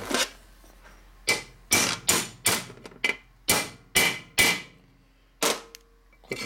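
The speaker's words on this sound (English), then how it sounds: "Now we can either beat on it with a hammer," A hammer drives a part into the transmission of a 1967 Harley-Davidson 74ci shovelhead FLH during a rebuild: about nine sharp, close metallic blows in an uneven rhythm, each ringing briefly, with no talking.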